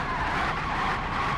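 A car in the BeamNG driving game brakes hard from high speed, a continuous loud screech of skidding tires with engine noise underneath, close and sustained.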